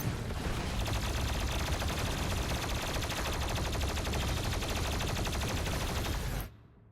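Continuous rapid gunfire from Doom Eternal with infinite ammo, a dense unbroken stream of shots lasting several seconds before cutting off abruptly, fairly quiet.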